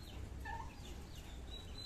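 Small bantam chickens give a brief cluck or two close by over a steady low background hum.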